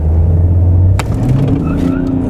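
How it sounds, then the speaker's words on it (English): A turbo diesel Mercedes fitted with a catless downpipe launches from a standstill with its tires spinning. A loud, deep engine rumble is broken by a sharp crack, then continues as a rougher, rising roar. "Keeps on spinning the tires."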